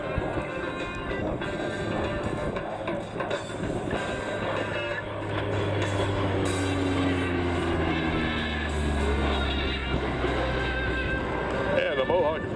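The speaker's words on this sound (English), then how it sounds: "The Mohawk, one of its features, one of the few propeller-driven aircraft" A US Army OV-1 Mohawk propeller aircraft flies past at the Selfridge Airshow, its steady engine drone rising and falling in pitch over a broad outdoor rumble, with an announcer talking over it throughout.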